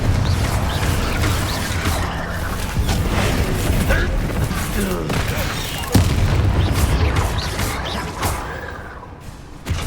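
Confringo explosive spell blasts in Hogwarts Legacy combat, heavy booming impacts with one sharp crack near the middle, layered over continuous battle noise while a voice speaks throughout.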